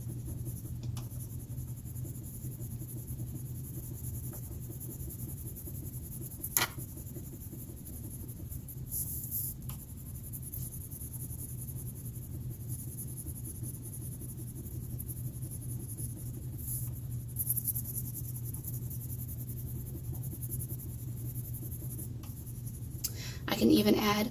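Gray coloring around drawn animals on paper, a faint soft scratch of a coloring tool under a low steady hum, with a few light taps and a louder rustle at the end.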